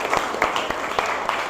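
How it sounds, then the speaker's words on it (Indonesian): A classroom of students claps together at the end of a lesson, a short burst of close, brisk, uneven applause with a few sharp individual claps standing out. "Tepuk tangan lagi untuk kita semua."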